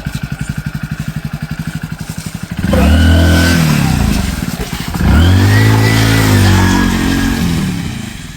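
A motorcycle engine idles with a rapid putter, then revs loudly twice in strong, rising bursts close by.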